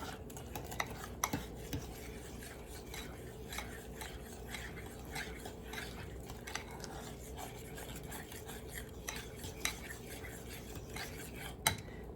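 An egg being mixed into shortbread dough in a bowl, a continuous soft scraping and stirring with occasional light clicks of a utensil against the bowl, quiet and close with no talking.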